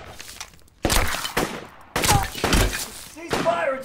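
Gunfire from a war film shootout: sharp, loud bursts of shots break out in several clusters close by, with shouted voices mixed in between them.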